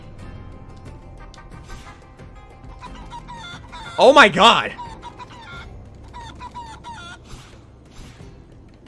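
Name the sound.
chicken clucking in Guacamelee 2 video game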